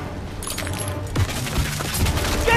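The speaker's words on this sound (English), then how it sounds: "Get down! Artillery barrage!" Artillery barrage in a World War II battle scene from Call of Duty: WW2, heard as a dense, continuous rumble of explosions and scattered gunfire with a few heavier low thumps building toward the end.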